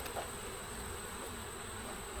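Honeybees buzz at a hive entrance, a faint, steady hum of many wings in the distance under a constant outdoor hiss.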